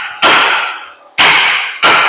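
Three hard metallic hammer blows strike a corroded gooseneck trailer wheel rim to knock it free of the hub, each a loud sharp clang ringing out and decaying before the next, spaced about a second apart.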